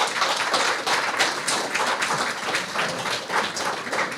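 A sustained round of applause from a large audience at a regional law conference, dense and steady clapping that fills the room without pause.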